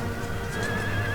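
Horse whinnies from cavalry in a battle in the strategy game Empire: Total War, with a sustained neigh over continuous background battle noise and faint hoof clatter, moderately loud and with no voices.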